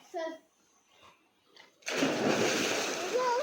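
Children swimming set off a sudden burst of steady, close water splashing and sloshing, which follows brief speech.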